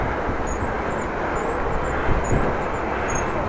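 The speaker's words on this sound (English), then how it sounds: "I can assure you it's wind is blowing quite hard" Strong wind gusting across an open area near Paddepoel shopping mall in Groningen, a loud continuous roar buffeting the microphone with brief surges, no voices.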